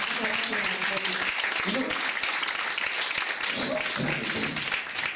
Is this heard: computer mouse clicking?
no